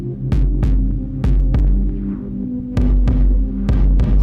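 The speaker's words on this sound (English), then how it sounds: "Hear how contextualized that kick is, how mixed in." A deep synthesized kick drum from VCV Rack Marbles thumps loud and booming, its hits landing in an uneven pattern over a sustained humming tone with reverb.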